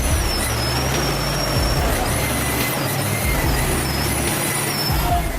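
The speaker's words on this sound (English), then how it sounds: "The huge truck roared and lurched like a monster, struggling with the slippery road." A huge, heavily loaded wood truck roars and strains as it climbs a slippery road, a loud continuous low engine drone with hissing, squealing brake or air sounds above, close and steady throughout.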